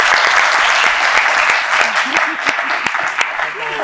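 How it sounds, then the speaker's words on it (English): Loud, sustained applause from a conference audience at the close of a panel session on Islam and AI ethics, dense clapping filling the whole stretch with a few voices mixed in. "We have to give them a double round of applause."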